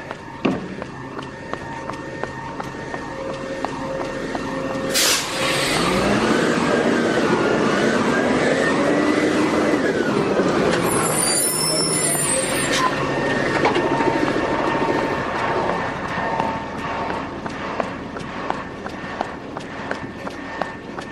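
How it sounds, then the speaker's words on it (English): A recycling truck passes on a street, its broad engine rumble swelling and holding loud for several seconds, with a brief hiss of air brakes near the middle, then easing off, all under steady outdoor background noise. "But hopefully I'll be away from the recycle truck."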